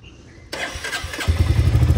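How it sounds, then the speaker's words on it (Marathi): A Royal Enfield Classic 350 motorcycle cold starts: after a moment of quiet the starter cranks, then the engine catches and settles into a loud, low, throbbing idle up close. "गाडी आपण कोल्ड स्टार्ट करू"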